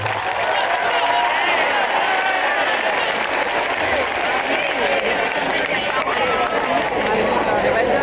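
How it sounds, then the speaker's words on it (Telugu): Loud, dense applause and cheering from a crowd at an event honouring a female teacher's talent, a steady wash of clapping throughout with voices mixed in. "మేడం గారి దగ్గర ఇంత టాలెంట్ ఉన్నందుకు గట్టిగా చప్పట్లు పడాలి"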